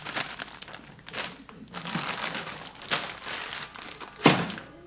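A plastic bag of celery crinkles and rustles in bursts, with a few dull thunks while it is handled and emptied in a kitchen during split pea soup preparation.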